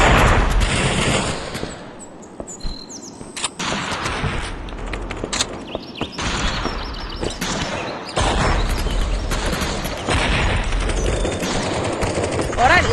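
Shotgun fire in the VR shooter Aim:xr crackles in rapid, dense volleys of loud blasts, nearly continuous across the stretch with brief lulls.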